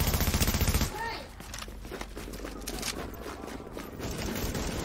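Rapid bursts of automatic gunfire from The Division video game rattle through the mix, sustained and fairly loud after an opening tone, with a player talking over the game sound.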